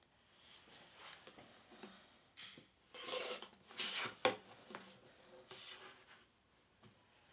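A rotary cutter slices fabric strips on a cutting mat for a quilted spring mug rug, giving a few soft scraping swipes with brief crisp rasps in the middle, close but quiet.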